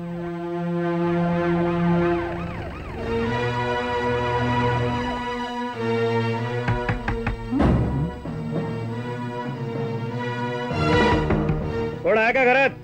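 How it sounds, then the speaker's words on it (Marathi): A wailing siren in a Marathi war film about a Maratha battalion set during an India–Pakistan conflict, rising and falling in long sweeps that carry through most of the scene, mixed with a dense music score and voices. "सायरन?"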